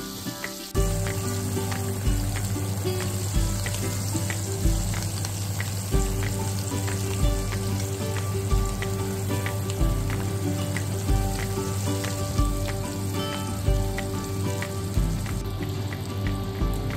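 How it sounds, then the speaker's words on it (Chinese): Horse mackerel (istavrit) frying in hot oil in a Turkish home kitchen, a dense, constant sizzle with popping spatters that beginns suddenly and holds steady throughout, no voices. "放入热油中，炸到两面金黄。"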